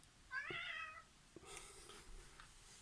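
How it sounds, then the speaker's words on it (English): A house cat meows twice from behind the person, the first call longer and clearer, the second softer and more drawn out, in a quiet indoor room. "my cat's meowing behind me"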